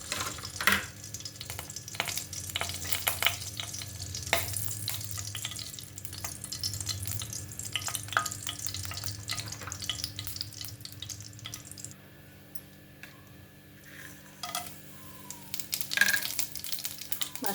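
Ghee and oil sizzle steadily in a kadai, a continuous frying hiss with scattered clinks and stirring scrapes, moderately close and with no talking.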